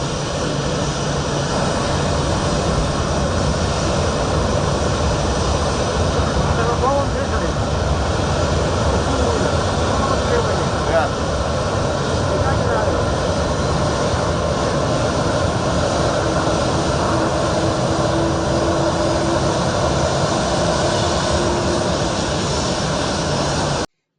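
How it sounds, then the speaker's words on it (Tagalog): Steady loud roar of a jet airplane carrying former Philippine President Rodrigo Duterte as it lands in the Netherlands, a sustained broadband engine drone with no break throughout. "ito po yung eroplano ng lulan ng dating Pangulong Rodrigo Roa Duterte"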